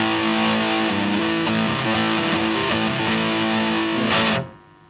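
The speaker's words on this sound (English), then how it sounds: "And you got your full distortion." An electric guitar played through an Ibanez MS10 Metal Charger pedal at full distortion, thick, saturated chords sustained loudly with a few picked accents, ending in an abrupt cutoff that leaves a fading buzz.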